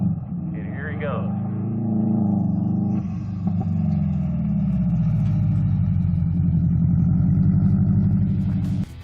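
A Lancia Stratos rally car at an Arizona rallycross event idles, then revs and pulls away onto the course, its engine note climbing and swelling nearby while a person talks over it.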